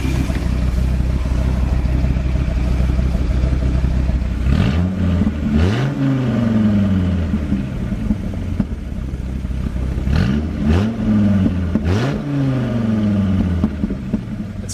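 A Dodge Viper's engine is revved while parked, with a steady loud idle broken by two pairs of sharp rising-and-falling throttle blips that roar close by.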